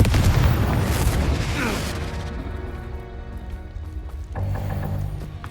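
Bombarda and Confringo blasting spells explode in the Hogwarts Legacy video game: a loud burst of crashing, rumbling blasts at the start fades into a lingering mechanical rattle, with a second, smaller surge near the end.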